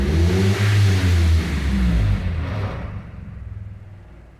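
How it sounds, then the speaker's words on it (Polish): A Mitsubishi Lancer 1.6 running on an LPG installation, its engine turning over with a steady low rumble that eases down and fades, close and fairly loud with no talk. "Jest teraz auto z powrotem na instalacji gazowej i mm, pracuje równo, poprawnie."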